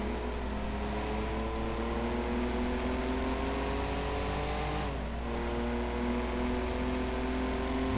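A racing car engine in Project CARS 2 at a Spanish circuit, held at high revs in a sustained loud whine with rising pitch, a brief gear-change dip midway, then climbing again.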